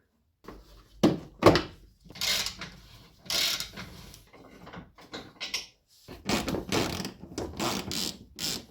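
Small bolts being removed from an Audi A6 C5 front bumper with a flexible ratchet, giving a string of close clicking, clunking mechanical sounds with short pauses between bursts.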